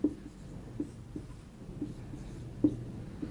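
Marker or chalk writing on a board during a chemistry lesson on chromate structure, a run of soft, irregular taps and short scratchy strokes close by, with no talking.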